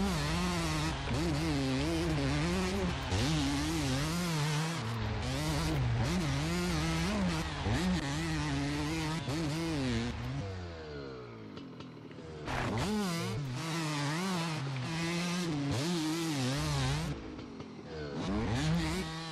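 A motorcycle engine in the video game MX vs ATV Legends revs and whines continuously, its pitch rising and falling in repeated waves, loud and close, with a brief drop in the middle before the revving resumes.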